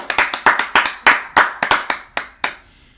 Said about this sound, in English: let's give Sadiq a round of applause